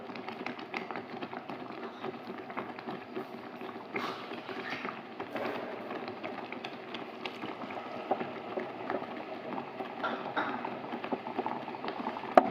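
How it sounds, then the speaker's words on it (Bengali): Okra and sugar for a sour jelly chutney cook in a kadai over a raised gas flame after a little water is added: a steady, dense bubbling sizzle runs evenly throughout, close and moderately loud, with no talking. "এতে আমি অল্প পরিমাণ একটু জল দেব।"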